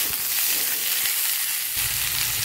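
Potatoes for muri ghonto fry in a pan with a loud, dense, continuous sizzle that stays close and steady and thickens slightly near the end.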